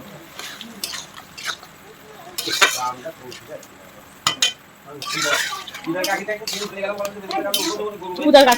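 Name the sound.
stirring banana flower with spice paste in a pan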